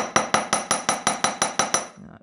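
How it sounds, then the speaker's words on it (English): Metal wire hammered flat on a block while making a wirework rose necklace: nine bright, ringing, evenly paced hammer taps up close, then a brief quiet handling sound. "So you'll hear a little bit of a noise now."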